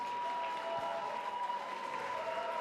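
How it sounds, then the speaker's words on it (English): Arena crowd at an MMA fight night applauds the fighters before the official decision, a continuous wash of clapping with light cheering heard from a distance, fairly subdued. "let's have a round of applause for our"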